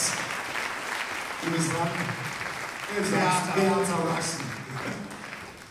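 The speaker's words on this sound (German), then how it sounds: "Nochmal einen Applaus." A theatre audience applauds softly in the background while someone speaks over the clapping, which swells slightly midway before fading.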